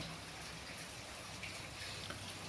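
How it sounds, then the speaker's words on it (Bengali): Rain falls on a building construction site where beam work has stopped, a quiet, steady, even hiss of rainfall with no other activity. "আজকে আসলে বৃষ্টি হইতেছে"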